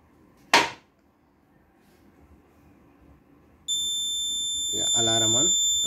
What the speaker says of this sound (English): Yeah, alarm on.